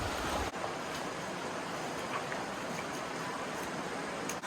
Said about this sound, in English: In this area it seems like the water is moving pretty quickly